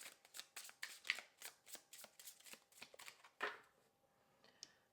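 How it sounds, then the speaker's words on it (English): Hand shuffling of a tarot deck, a rapid series of soft card flicks and riffles close up, slowing and trailing off at the end, quiet and without voices. "One more shuffle, 3."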